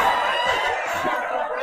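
Chickens cluck and murmur softly nearby in a steady, low chatter, ending with a brief louder sound.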